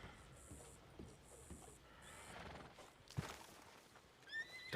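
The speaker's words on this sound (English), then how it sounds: "My horse has decided that he wants to come listen." Horse in the RedM western game, a close whinny followed by hoof clip-clops and shuffling, with brief sharp neighing bursts near the end, no one speaking.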